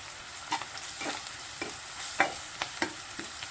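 Ginger garlic paste and turmeric fry in a pan for an egg curry, a steady close sizzle broken by about seven sharp scrapes and clinks of a spoon stirring against the metal.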